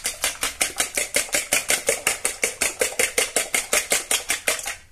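Eggs beaten in a bowl for a Spanish omelette, a fast, even run of about twenty-five sharp whisking taps, close and loud, with no talk.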